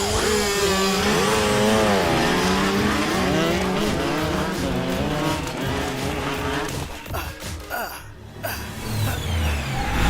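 A motorbike ridden recklessly on a public road roars nearby, its engine pitch rising and falling through hard revving, with tire squeal and skidding noise, and people shouting over it near the end.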